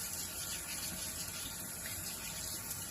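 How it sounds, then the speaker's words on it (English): A kitchen tap runs water steadily over potatoes being washed. The flow is faint and even throughout, with no voices. "So I try to wash the potatoes, get all the excess dirt, eyes, those types of things off"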